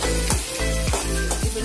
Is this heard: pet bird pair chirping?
no